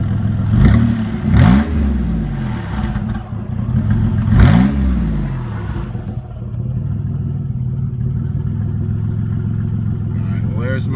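A twin-turbo Camaro engine revs hard in repeated bursts, rising and falling sharply, then settles into a steady rough idle with a faint clatter.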